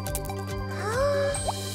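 Cartoon water drips from a roof leak, plopping wetly with a rising, bubbly pitch sweep followed by a sharp single drop, close and clear over a quiet musical bed.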